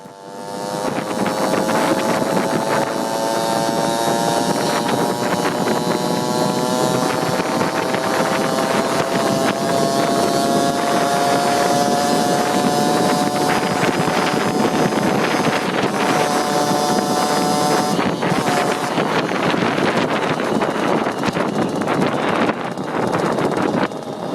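A Yamaha QT50 moped fitted with a Malossi kit runs hard at full throttle, its high buzzing two-stroke whine rising steadily in pitch, loud and close under heavy wind rush for the whole stretch.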